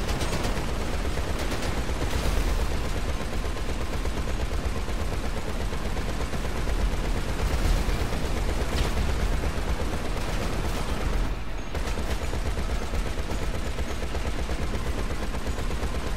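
Gunfire in GTA 5 Online, a dense continuous barrage of rapid shots and blasts that stays loud and steady throughout with only a brief dip near the end.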